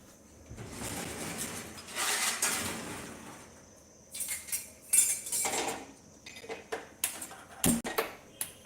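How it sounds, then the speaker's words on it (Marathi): Iron griddle clinks and clatters in several bursts, with scraping and sliding sounds between them, close by and fairly loud. "तवा घेऊन येते"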